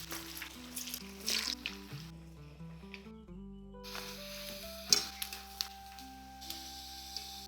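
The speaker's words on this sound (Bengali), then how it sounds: "এখন আমি মাছের মুইঠাগুলো দিয়ে দেবো।" Rohu fish dumplings frying in hot mustard oil in a karahi, a close crackling sizzle with occasional stirring clicks, partly covered by a sustained melodic tone, no talking.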